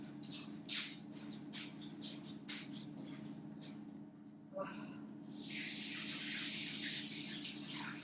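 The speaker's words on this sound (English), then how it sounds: "So I'm just going to wash my hands again." Hands being washed under a running tap in a home kitchen while preparing stuffed chicken; after a few soft splashy bursts, a steady hiss of flowing water runs continuously to the end.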